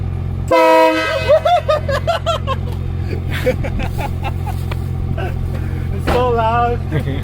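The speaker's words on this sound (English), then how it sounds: "the train horns that are on the truck" Loud multi-tone train horns mounted on a modified Japanese kei truck blast in a long chord near the start, followed by talk and engine rumble, with a second shorter horn blast near the end.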